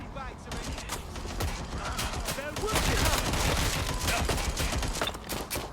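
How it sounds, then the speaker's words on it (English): Bursts of gunfire in the video game Watch Dogs Legion, rapid crackling shots repeating throughout and growing denser midway, with voices talking over the shooting. "They're shooting at us."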